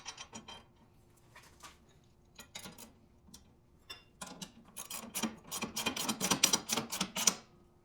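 A wrench tightens a bolt on a light bar mount for a John Deere X700 Series tractor, with sparse metallic clicks at first that quicken into a dense, close ratcheting run.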